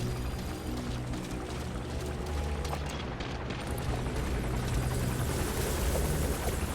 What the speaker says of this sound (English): Is that the fucking chopper?